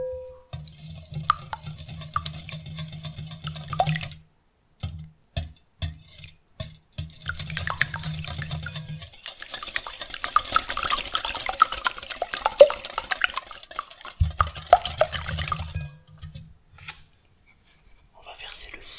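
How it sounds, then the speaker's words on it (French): Eggs beaten in a bowl for an almond pear tart, quiet close whisking and tapping strokes in bursts with pauses, soft clinks of utensil on the bowl between them. "c'est qu'on va battre les œufs"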